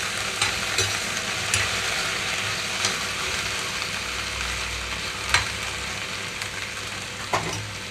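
Cut okra frying steadily in a pan over low to medium flame, a dense continuous sizzle with a few sharp clicks of the spatula as it is stirred now and then.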